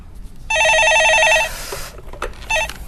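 A telephone rings loudly for an incoming caller on a Korean stock-market call-in broadcast: one long burst of electronic bell trills, then a shorter second ring after a brief pause.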